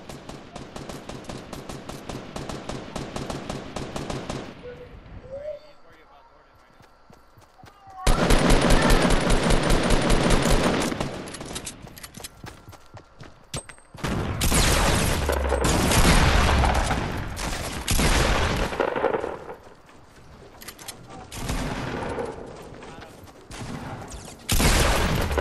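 Rapid automatic gunfire in a shooting video game, coming in long loud bursts separated by quieter gaps and followed by heavy booms, with occasional voices in between.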